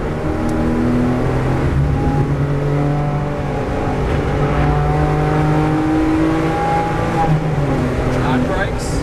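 Race car engine on a track revving and pulling steadily up through the gears, loud and close throughout, with a continuous droning tone and a voice talking over it.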